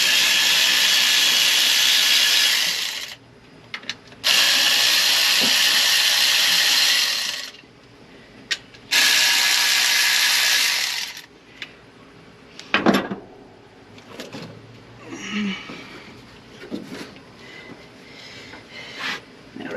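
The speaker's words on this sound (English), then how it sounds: "I'm going to switch out to my 1/4 inch drive and use my little battery power ratchet." Battery-powered 1/4 inch drive ratchet removing parts from an engine with Edelbrock heads during teardown: three loud sustained whirring runs of a few seconds each, followed by scattered clinks and knocks of parts being handled.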